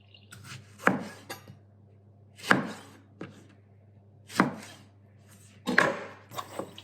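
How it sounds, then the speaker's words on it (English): A knife chopping big fresh tomatoes into wedges on a board, sharp close thuds arriving every second or so with soft slicing noise between them. "Just cut them into wedges."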